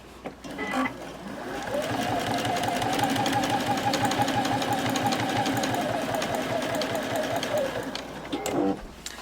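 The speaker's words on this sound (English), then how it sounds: "I will be using the edge of the foot here as my guide to sew all the way along the edge of the project" A sewing machine runs a long continuous line of stitching along the edge of a fabric pouch, its steady rapid needle rhythm loud and close, starting and stopping cleanly with no talk.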